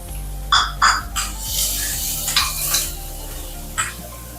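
Small chopped onions sauté in a pan after dried anchovies were fried, making a continuous sizzle broken by several sharp clinks and scrapes of a spoon against the pan.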